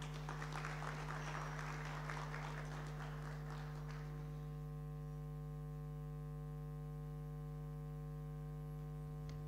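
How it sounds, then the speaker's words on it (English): Applause from an audience at an academic lecture event rings out for about four seconds, a dense patter of many hands clapping that then stops, leaving only a steady electrical mains hum. "A round of applause"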